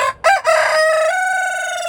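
A single loud rooster crow up close, starting with a couple of short rising notes and then holding a long, strained call.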